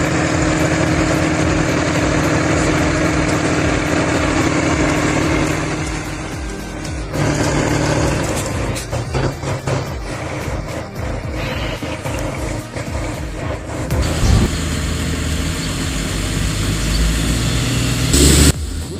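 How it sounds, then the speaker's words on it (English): John Deere and Case IH tractors straining during a mud recovery, their engines droning loudly and steadily, then revving and roughening partway through with clanks and bursts toward the end. "Steel cables tightened, engines roared, and mud flew in every direction."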